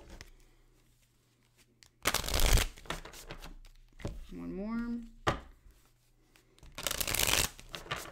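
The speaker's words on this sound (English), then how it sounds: "And some light shuffles." Tarot cards are shuffled in two brisk riffling bursts, close and crisp, with a short spoken remark between them.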